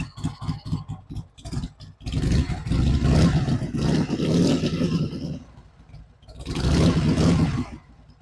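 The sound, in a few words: swapped Harley-Davidson motorcycle engine running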